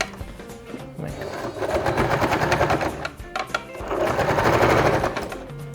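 Sewing machine stitching piping onto chair upholstery, a rapid mechanical chatter close by in two long bursts with a brief pause between, no talk over it.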